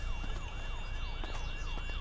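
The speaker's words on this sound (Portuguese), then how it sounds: "E essa sirene?" A wailing emergency siren in the video game GTA 5 rises and falls in steady repeating sweeps, loud and close over a low rumbling engine bed, with no talking.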